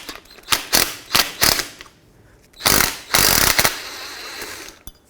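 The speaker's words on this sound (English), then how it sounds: "then I'm going to use my impact driver and just unthread the bolt" Rapid impact driver bursts loosening a brake caliper banjo bolt on a 2014-2018 GMC Sierra rear caliper, several sharp rattling hammering bursts, close and loud, separated by short pauses.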